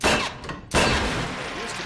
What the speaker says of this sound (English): Ah, I have silenced pistol.